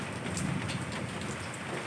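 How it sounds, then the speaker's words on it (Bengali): Heavy rain falls steadily and densely, with a low rumble beneath it, as a windy storm with lightning passes outdoors. "ভালো বৃষ্টি হচ্ছে, দেখছো চমকাচ্ছে।"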